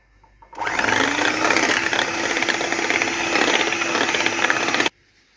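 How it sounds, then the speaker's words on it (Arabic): An electric mixer beating chocolate cake batter after milk is added, a loud, close motor whir that switches on, runs steadily for about four seconds with a slight rattling texture, then cuts off abruptly. "غادي نزيدو الحليب ونعاودو نضربو مزيان"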